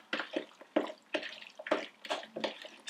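Octopus salad stirred in a bowl, giving a string of wet, squelching, splashy pulses in a quick irregular rhythm, close and fairly soft.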